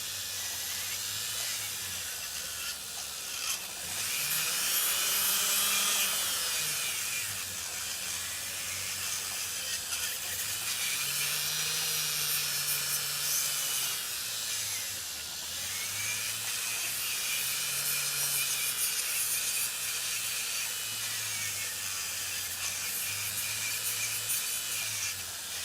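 An electric nail drill grinds down thick solar nail tips with a steady high-pitched whine that rises and falls in pitch as pressure changes, running continuously throughout, close and loud with no talking.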